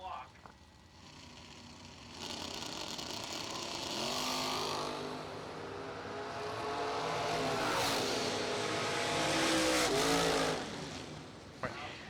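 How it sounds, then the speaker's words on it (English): Drag race cars at a bracket racing event roar past with rising engine whines and broad rushing noise, swelling louder in waves and fading out near the end. "the race cars going by his motorhome"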